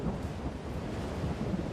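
A cyclone storm sends steady, dense rain and a low, continuous thunderous rumble, broadband and unbroken throughout with no voices.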